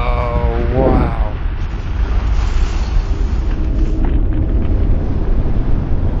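Burning propane roars out of a bullet hole in a shot propane tank in a steady, loud, broadband rush, with a voice heard briefly at the start.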